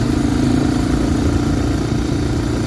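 A 1985 Honda Big Red 250ES three-wheeler runs at a steady, smooth mid-pitched engine drone, loud and close with an even pulsing throb and no voices.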